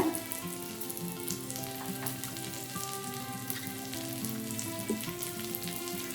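Mint leaves sauté in a pan for an onion mint chutney, giving a steady close sizzle with a faint tonal hum running beneath and occasional soft stirring sounds; nobody speaks.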